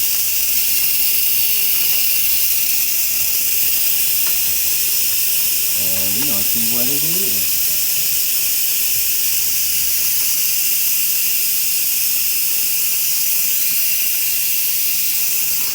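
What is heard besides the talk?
Instant Pot pressure cooker releasing steam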